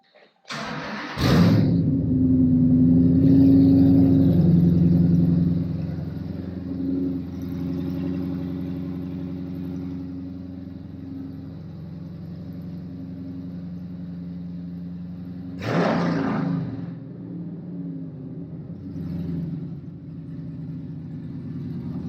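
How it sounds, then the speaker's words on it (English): A Dodge Challenger or Charger V8 engine cranks and fires up with a loud burst, then settles into a deep, lumpy idle through long-tube headers and cats with no exhaust; a second sharp rev blips midway. "this is gonna be the first startup. No exhaust, just long tube headers and cats."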